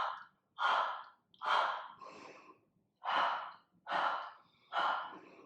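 Audible breaths during a Pilates mat exercise: six or so strong airy breaths come in a steady rhythm, close and alone with no talking.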